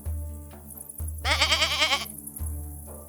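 A young goat bleats once in a loud, wavering, drawn-out cry that sits over a steady low hum and soft background sounds.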